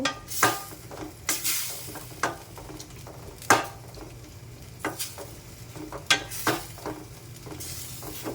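Green okra (bendi) frying in a pan, stirred with a spatula: irregular scraping strokes come every second or so over a low, steady sizzle of hot oil, close and with no voices.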